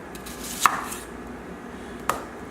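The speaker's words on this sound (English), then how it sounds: "And now we're going to thinly slice the onion." A knife thinly slices an onion on a cutting board, giving two crisp, separate chops about a second and a half apart over a quiet kitchen background.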